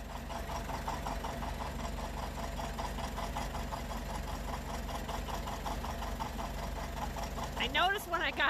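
A John Deere two-cylinder tractor idling in winter after repairs, a steady loping putt-putt beat close and even, with a short squealing sweep near the end and a voice briefly over it.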